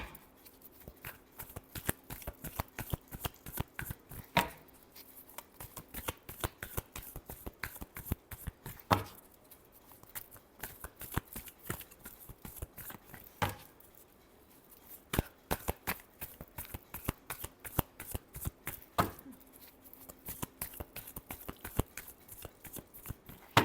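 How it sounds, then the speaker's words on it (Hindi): Tarot cards being shuffled by hand, a soft, rapid run of riffling flicks and taps in close, quiet repeated bursts with brief pauses between rounds. "last shuffle"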